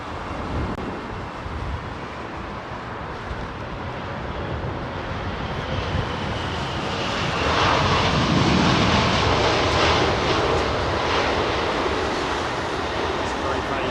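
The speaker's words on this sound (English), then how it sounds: "Long spool up. Trent 700 powered A330 with Virgin Atlantic" A Virgin Atlantic Airbus A330 with Rolls-Royce Trent 700 engines spooling up at Heathrow, a long rising engine roar that grows louder and fuller toward the end, with voices talking faintly underneath.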